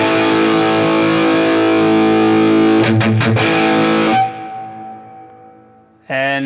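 A heavily distorted electric guitar chord through a distortion pedal on a NUX MG-30 rings out loud and buzzy, with a few choppy strums, then decays into noisy hiss before another chord hits.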